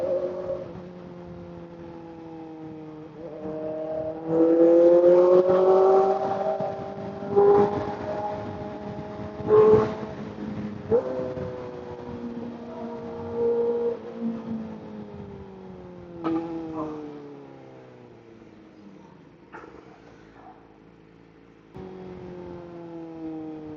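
Kawasaki ZX-4RR motorcycle being ridden, its engine note rising and falling through gear changes with shifting harmonic pitch, steady and fairly loud over about twenty seconds, with brief dips between pulls and no talking.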